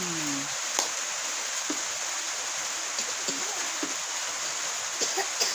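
Rain falling at night, a steady hiss of rainfall with occasional louder drips, a brief voice-like sound at the start, otherwise a continuous wash.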